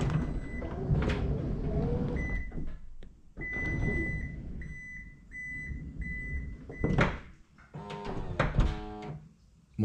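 The power sliding door of a Toyota Alphard 40 series runs after a switch press: a short chime, a series of electronic beeps over a steady motor hum, then a thunk and clatter as the door settles.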